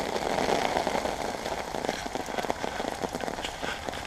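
Heavy rain pours down outdoors during wet-weather bowdrill preparation, making a dense, steady hiss and patter throughout. No voices are heard.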